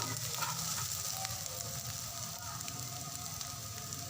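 Garlic and onion fry in a pan as the base for shakshuka, giving a soft, steady sizzle and crackle at low level with no talking.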